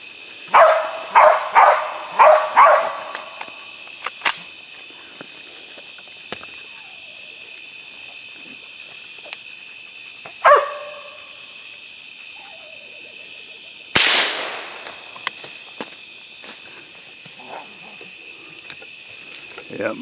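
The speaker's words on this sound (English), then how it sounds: "These dogs are pretty active." Hunting dogs bark at a raccoon in a swamp, a cluster of sharp, fairly distant barks early, then scattered single barks, all over a steady, droning chorus of insects.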